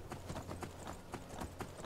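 Horse hooves clip-clopping in the video game Skyrim, a soft, steady run of repeated hoof beats over a constant background hum, quiet and without speech.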